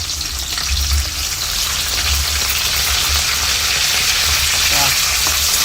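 Mustard seeds, onions and curry leaves fry in hot oil for a chicken and drumstick curry, a dense steady sizzle with crackling pops and occasional stirring scrapes, close and continuous throughout.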